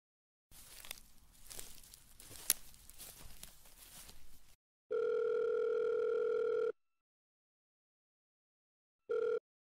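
Telephone dial tone from a cartoon phone call, a steady loud hum lasting about two seconds, then a brief return after a pause. Rustling and shuffling noise comes before it.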